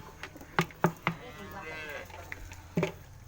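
A calf moos several times in short, close calls on a dairy cattle farm, with a few brief bursts spread across the clip and quiet between them.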